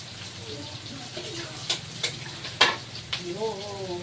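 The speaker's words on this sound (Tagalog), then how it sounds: "At ilalagay na natin ang beef." Beef added to a sizzling pan for beef kaldereta, with several sharp spoon or meat clatters over a soft sizzle and a little background voice.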